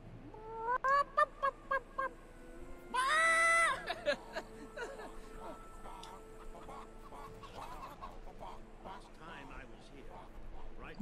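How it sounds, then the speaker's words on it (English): Several short clucking calls from chickens in Fable 3, then a longer loud crowing burst, with steady talking running underneath through the rest. "These chickens are singing."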